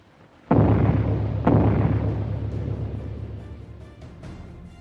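Bomb explosions in an airplane action film: a sharp, loud blast followed by a long rumbling roar, then a second heavy detonation a second later, with the rumble slowly fading and small crackles near the end.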